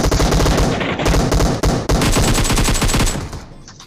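Rapid bursts of automatic gunfire from a mobile battle royale shooter game, loud and dense for nearly four seconds, with brief gaps between volleys and no talking.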